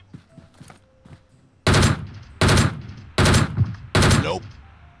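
Four sharp, loud gunshots ring out at even intervals in PUBG Mobile, each with a short echoing tail, following quieter game clicks and footsteps.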